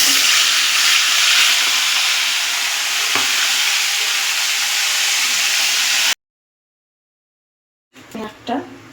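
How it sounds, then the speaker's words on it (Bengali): Chicken leg pieces fry one by one in oil over medium heat, a loud continuous hissing sizzle that cuts off abruptly, followed by a short silence and then brief voices. "দিয়ে এবার এই লেগ পিসগুলো আমি এক এক করে ভেজে নেব"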